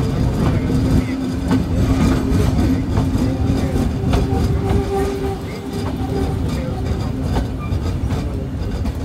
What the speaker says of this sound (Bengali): ট্রেনটি এসে প্রবেশ করলো মির্জাপুর রেলওয়ে স্টেশনে।